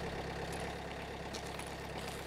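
A vehicle engine idles in Escape from Tarkov with a low, steady rumble and a faint knocking pulse, quiet and continuous with no talk over it.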